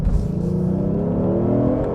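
A Genesis G70 3.3T twin-turbo sedan accelerates hard, its engine note rising steadily in pitch over a couple of seconds, heard loud and close from inside the car with no talking.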